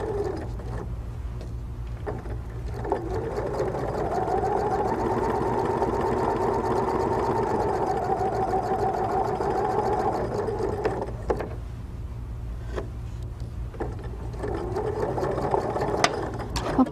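A sewing machine stitching quilt fabric runs steadily for about seven seconds with a close, loud whirring hum, then stops, with brief quieter runs and handling noises around it.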